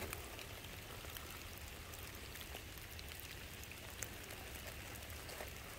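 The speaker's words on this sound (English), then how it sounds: "Look at this creek." Creek water in the Land Between the Lakes woods, a steady broadband wash of flowing water that holds at an even level throughout, with no voices.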